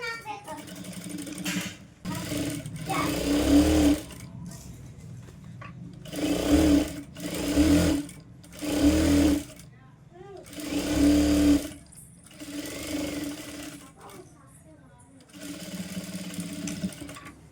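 A sewing machine stitches a kids' lehenga blouse in repeated bursts of fast, close mechanical whirring, each run lasting about a second or two, with a person talking in the pauses between runs.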